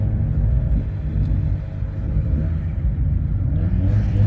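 A group of Toyota 86 coupes leaving a car meet at Ecopa Stadium, Shizuoka, with a continuous heavy engine rumble and light revving as the cars roll past.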